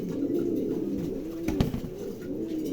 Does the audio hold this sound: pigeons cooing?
yes